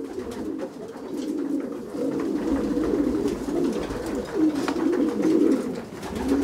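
Racing pigeons coo steadily in a loft, a soft continuous murmur of overlapping low calls throughout, close and moderately loud with no speech.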